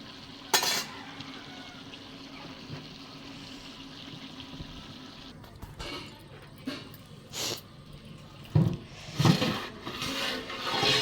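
Tomatoes go into a hot pan and are stirred, making a soft sizzle with scraping and clinking of a spoon against the pan that grows busier toward the end, with no voices.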